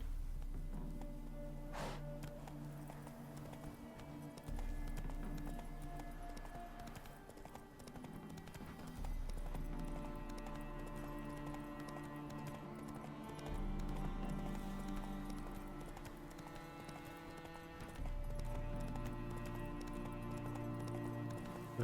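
A horse gallops in The Witcher video game, its hooves clip-clopping in a steady rhythm at moderate loudness over quiet background music.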